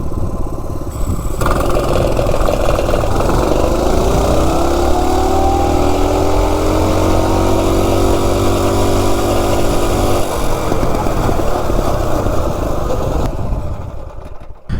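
A minibike engine running on Coleman camping fuel revs up loudly and climbs in pitch through a steady acceleration, holding a strong drone close by before easing off at the end.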